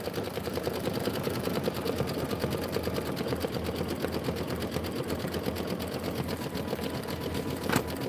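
An embroidery machine stitching out a design runs in a fast, even needle rhythm, steady and close, with a brief sharp click near the end and no talking.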